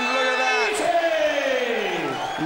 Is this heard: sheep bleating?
no